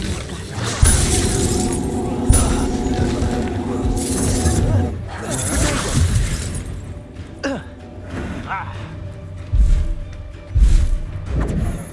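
Expulso spell blasts in Hogwarts Legacy: sharp crashing, shattering impacts and heavy thuds land in bursts among busy combat effects and a steady music bed, with several loud hits spread through the fight.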